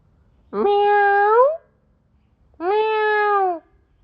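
Two drawn-out cat meows, each about a second long, separated by a short pause, close and clear against a quiet background.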